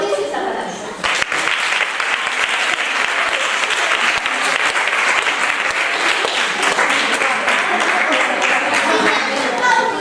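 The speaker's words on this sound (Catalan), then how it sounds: "Podeu aplaudir si s'ha acabat." Young children in an early-years class applaud at the end of a told story. The clapping is loud and dense and starts abruptly after a brief pause, then continues steadily without fading.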